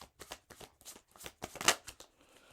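Tarot cards being shuffled and drawn: a string of soft, papery riffles and slides at an uneven pace, with one sharper snap near the end, close and quiet, no talking.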